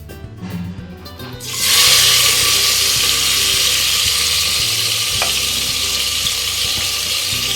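Mutton pieces dropped into a pressure-cooker pan with a spoonful of ghee burst into loud, steady sizzling frying that holds strong and close without a break, no voices over it.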